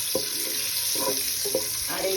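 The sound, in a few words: eggs frying in hot oil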